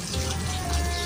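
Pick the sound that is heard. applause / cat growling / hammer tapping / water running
water running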